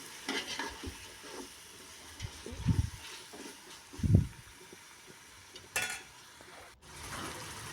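Chopped coriander leaves are stirred into a beef biryani masala in a pot, giving a few soft scraping stirs and low thuds over a faint sizzle, close by with no talk.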